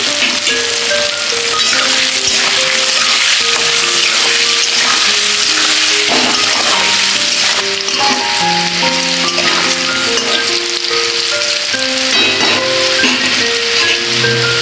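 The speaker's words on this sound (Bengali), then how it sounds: "আলুটা ভাজা হয়ে গেছে এবার নামিয়ে নিচ্ছি" Potatoes with salt and turmeric fry in hot oil, giving a continuous loud sizzle and crackle. A melodic tune plays underneath throughout.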